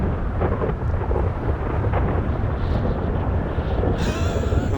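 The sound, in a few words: thunderstorm in the video game GTA Online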